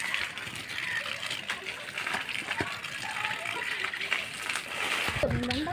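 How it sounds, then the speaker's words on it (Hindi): Water gushes and splashes outdoors in a steady, fairly close rush, with people talking over it. "देखो ये पानी है"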